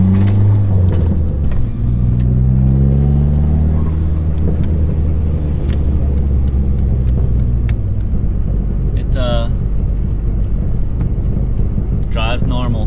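Interior of an SRT-4 driving after an automatic transmission fluid change, with a steady loud low engine and road drone, gear shifts early on, and a few faint chirps over the constant rumble.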